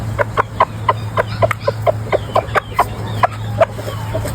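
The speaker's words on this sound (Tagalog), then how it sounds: "nagtatawag na rin ng inahin" Rooster calling to a hen with a rapid, rhythmic run of short clucks repeated evenly throughout, close and clear over a steady low hum.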